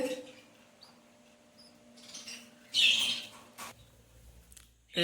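A young chick near its nest gives a few brief chirps and squeaks, spaced out between quiet stretches, fairly close but soft, with some handling noise.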